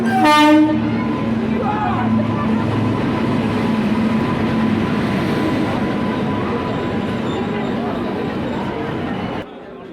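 A passenger train pulls into a station with a loud horn blast at the start, then a sustained rumble of rolling wagons that eases off near the end, with chatter mixed in.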